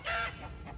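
Chickens and a goose held at a rural farmyard give a short burst of clucking, near and fairly clear, with a louder call at the start and softer clucks after it and no talk over them.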